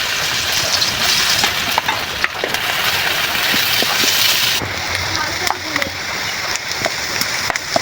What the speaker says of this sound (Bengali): তেলের ভিতরে আমি পেঁয়াজ কিছু দিয়ে দিলাম